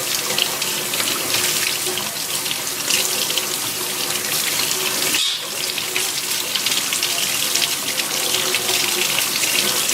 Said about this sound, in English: So I'm washing that off really well.